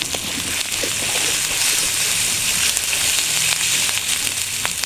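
Dried red chili paste sizzles and fries in a hot pan of ginger-cumin paste and spices for a chicken curry, a steady, loud bubbling crackle with small spatters throughout.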